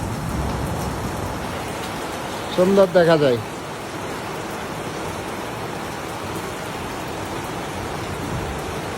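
Steady rain falls outdoors beside a pond in an even, soft hiss that runs throughout, with a brief spoken phrase over it partway through.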